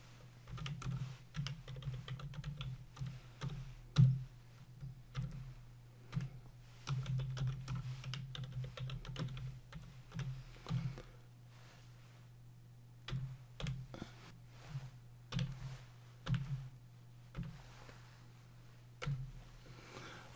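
Steady computer keyboard typing of VBA code, bursts of quick keystrokes with brief pauses between runs, close and fairly quiet over a low constant hum.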